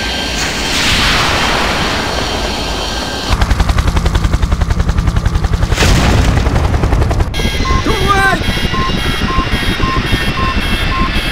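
Missile striking a helicopter in the video game Project I.G.I.: a loud booming impact, then rapid gunfire-like bursts and a roaring, rumbling aftermath, with a voice briefly heard in the mix.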